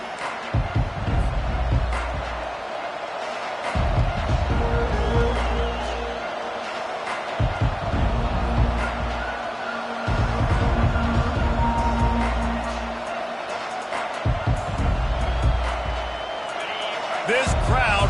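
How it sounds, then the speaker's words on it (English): Stadium crowd at a college football game between Georgia and Miami roars loudly through the opening kickoff, a dense sustained cheer with bursts of swelling noise under a commentator's voice. "This crowd bringing an ear-splitting welcome to their visitors."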